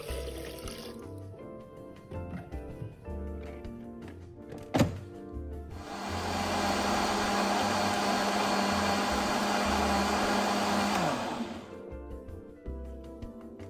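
A kitchen blender runs on white rice, salt and water: a sharp clunk, then a loud, steady whirring blend of about five seconds that stops abruptly, with quieter kitchen noise before and after.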